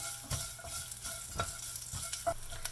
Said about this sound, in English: So the mustard seeds started spluttering.